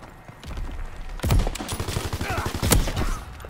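Rapid, loud gunfire in a WWII shooter game, with a Type 38 sniper rifle in hand, bursts of sharp cracks and repeated shots from many weapons over a busy battle background.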